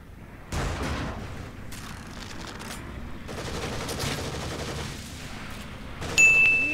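Bursts of machine gun fire in The Evil Within on Akumu mode, sustained rattling shots with heavier booms mixed in, loud and fairly close, swelling near the end.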